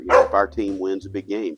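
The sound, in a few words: dogs barking in the background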